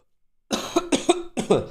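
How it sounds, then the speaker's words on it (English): A few harsh, close coughs in quick succession break a silence, loud and chesty. "sorry, I'm coughing"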